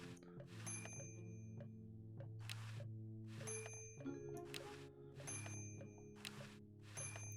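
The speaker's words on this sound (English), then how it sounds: "Right, I need to use this bell." A bell in the video game Day of the Tentacle Remastered is rung repeatedly, its bright rings striking at a steady pace over sustained background music, each strike ringing out briefly.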